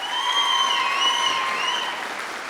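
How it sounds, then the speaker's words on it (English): Audience at a Dalhousie University spring convocation for the Faculty of Health applauding in a steady, even wash of clapping that lasts throughout, with faint tonal sounds running over the top. "I expect a big round of applause from anyone who's in those schools"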